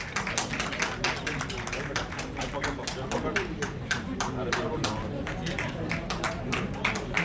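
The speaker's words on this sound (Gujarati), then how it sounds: "ખૂબ તાળીઓ સાથે આપણે આવકારીએ" Audience in a hall applauding to welcome a teacher receiving a state and national award, steady dense clapping throughout with talk mixed in underneath.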